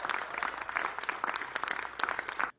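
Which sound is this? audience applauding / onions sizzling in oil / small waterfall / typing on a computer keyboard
audience applauding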